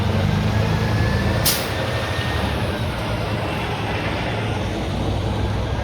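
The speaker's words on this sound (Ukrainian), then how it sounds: "Там трак, там літак." Heavy road traffic noise outdoors, a truck rumbling nearby with low engine drone and a steady broadband roar, a brief hiss burst partway through, continuous and fairly loud.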